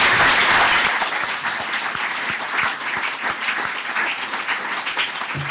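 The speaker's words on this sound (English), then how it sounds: "I will ask everyone to clap our panellists" An audience claps for debate panellists at the close of a panel event, starting as a dense burst and thinning into scattered, separate claps, heard alone.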